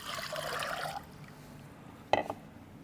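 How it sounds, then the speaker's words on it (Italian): Water poured into a small saucepan while cooking a black cabbage and bean soup, a soft, faint splashing pour lasting about a second, followed by a brief clink. "Pentolino, acqua"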